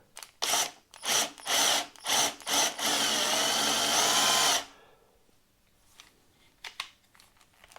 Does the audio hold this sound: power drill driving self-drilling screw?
yes